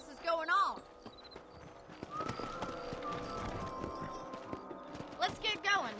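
Horses ridden in the video game Red Dead Redemption clip-clop with rhythmic hoofbeats, with an occasional whinny, while someone talks over them.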